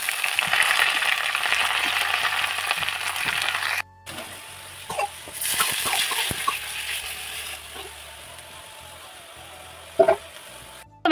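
Potatoes and radish greens fry in a home pan, giving a steady loud sizzle that breaks off briefly, then returns with faint stirring clatter.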